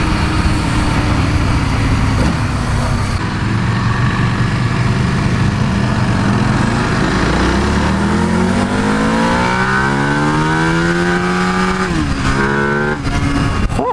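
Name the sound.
EBR 1190RX motorcycle accelerating at half throttle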